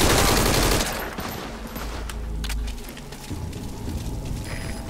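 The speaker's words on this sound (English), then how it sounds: "We're hearing gunfire." Gunfire in Metal Gear Solid V: Ground Zeroes near the old prison area: a loud burst opens, followed by scattered, more distant shots and rumbling game ambience, with no talking.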